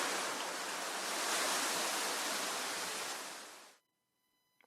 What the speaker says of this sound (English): it means the sound of rustling leaves or wind in the trees